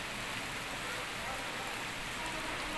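Steady rain pours down in Pakistan after three days of continuous downpour, a dense unbroken hiss of drops on surfaces filling the whole stretch with no voices.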